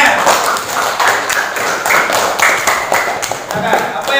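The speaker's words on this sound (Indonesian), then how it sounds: "Tepuk tangan untuk Ciaranya" Applause from a classroom audience in an Islamic religious education teacher-training lesson as a student is called to the front: steady, dense clapping for about four seconds, close and fairly loud.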